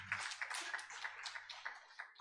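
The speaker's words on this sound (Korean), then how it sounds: "우리 박수 한번 하십시다." A church congregation claps together during a Sunday morning worship service, a dense, steady burst of many hands filling the room for about two seconds.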